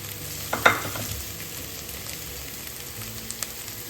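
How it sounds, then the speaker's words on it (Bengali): Shrimp sizzling in a hot pan, a steady soft frying hiss with a brief louder splash of oil about half a second in, fading to a low continuous crackle. "এবার আমি দিয়ে দেবো এর মধ্যে চিংড়িটা।"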